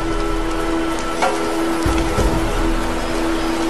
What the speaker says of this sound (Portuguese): Josh e Matt são acordados pela chuva no vale.